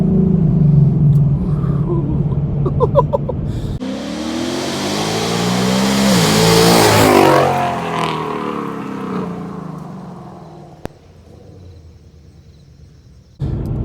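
A 2018-19 Mustang GT fitted with longtube headers revs hard, its loud, raspy V8 exhaust rising and falling for several seconds after a few shorter blips, then settling back to a low idle rumble.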